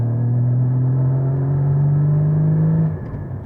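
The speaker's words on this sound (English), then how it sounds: "I have the sports exhaust on, but I'm rev matching myself." A 2015 Porsche Cayman GT4 with sports exhaust drones steadily and loudly from inside the cabin, holding a smooth engine note for about three seconds before the revs drop away as the driver shifts manually.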